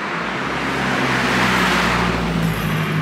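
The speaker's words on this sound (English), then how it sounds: "those cars are driving really fast and it's so windy" Cars rush past fast on a road at night in Taiwan, a steady loud roar of traffic with low wind buffeting throughout, no voices.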